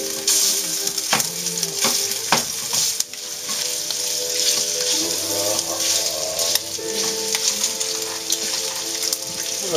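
Italian sausage sizzles steadily in a hot pan, a dense continuous crackle of frying with occasional clinks and scraping as it is cut up, close and fairly loud with no talking.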